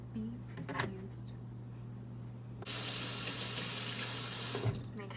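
Butter jar being washed under a running kitchen sink tap: a steady, close water stream starts partway through and runs continuously, with a few clinks and knocks of handling before it.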